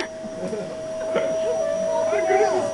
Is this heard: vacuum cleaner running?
yes